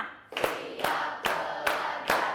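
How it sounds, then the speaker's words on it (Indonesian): Five crisp hand claps in a steady rhythm from a class of pupils responding to a teacher's count, each clap a sharp, close burst with a brief decay before the next. "Oke, tepuk lima."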